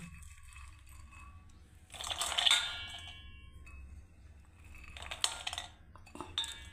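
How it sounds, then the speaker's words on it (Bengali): Sprouted chickpeas and whole mung beans poured into a dish, giving two short bursts of rattling, clinking grains separated by quieter pauses, heard close with no voices. "প্রথমে এটা আমি ঢেলে দিচ্ছি আপনার স্প্রাউটস মানে অঙ্কুরিত ছোলা আর আপনার গোটা মুগ"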